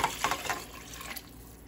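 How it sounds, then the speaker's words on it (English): Water running into a soup pot to fill it about halfway for fish sinigang, a short burst of faint splashing that quickly fades to a soft trickle, with no talking. "fill this pot up with about halfway full with water"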